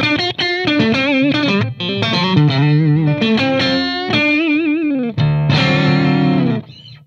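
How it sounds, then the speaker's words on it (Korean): A Cort X700 Triality electric guitar plays a short phrase with an overdrive tone and the reverb switched off, loud, close and gritty sustained notes and chords with brief gaps between them. "오버드라이브 리버브 끄고 오버드라이브 해보겠습니다"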